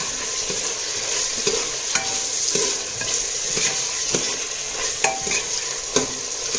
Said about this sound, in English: I have added tomatoes, finely chopped onion, sliced green chilies and curry leaves along with the dal and roasting it in the oil.